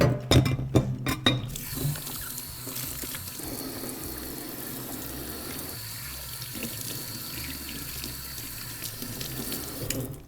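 Hands are washed under a running kitchen tap while pasta is being cooked, giving a steady close rush of water. A few sharp clatters come at the start, and no one speaks.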